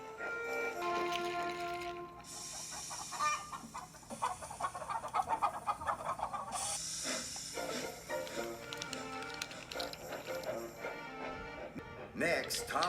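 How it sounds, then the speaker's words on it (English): Toy wooden railway scene: chickens cluck and squawk in a busy cluster, their calls rising and falling over several seconds amid other background sounds. "First, Thomas collected the chickens."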